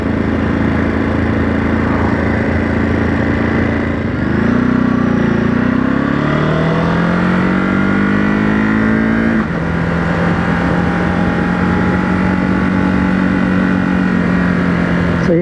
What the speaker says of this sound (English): just taking the bike through these country roads now